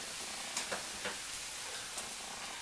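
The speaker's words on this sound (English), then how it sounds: "add a little bit of the gravy." Gravy goes into a pan of pork chops with onions, bringing a steady, close sizzle broken by a few soft clicks and stirring scrapes.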